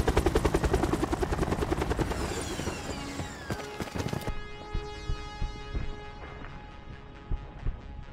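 A helicopter in a video game thumps close and loud with fast rotor chop, its steady beat continuing as the engine whine shifts, broken by several sharp knocks toward the end.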